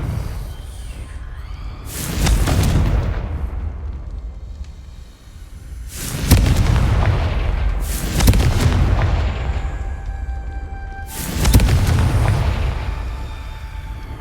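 Confringo fire spell blasts in the Hogwarts Legacy video game: four loud booming explosions at irregular intervals, each with a sharp onset and a rumbling decay, over a low ambient background.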